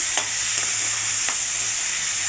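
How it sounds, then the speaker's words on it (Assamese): Steady frying sizzle with a broad hiss, a few soft scraping stirs of a utensil, and a faint low hum underneath; no talking. "এতিয়া এইখিনি আলু বেঙেনা হ'ল, এতিয়া এইখিনি ভাজিম"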